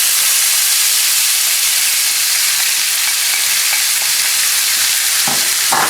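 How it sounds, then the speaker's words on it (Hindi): Ground masala, onion, green chilies and ginger garlic paste fry in oil over medium heat for baghar baingan, a loud, dense, continuous sizzle with occasional stirring scrapes. "इसे आपने मीडियम हीट पर रखकर फ्राई करना है"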